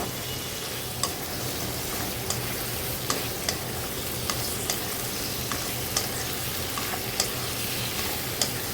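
Prawns, lightly salted, fry in a pan with a steady loud sizzle, broken by regular light clinks of a utensil stirring and turning them about once a second, with no voices.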